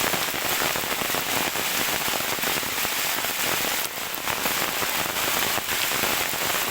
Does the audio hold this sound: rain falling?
yes